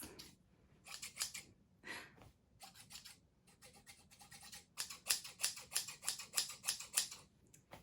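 Scissors snip through fabric in quick repeated crisp cuts, building into a steady rapid rhythm near the end, with no voices.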